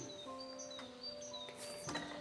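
Birds chirp after a summer rain, several thin, high tweets and whistled calls repeating over a faint, quiet background, fairly close and with no talk.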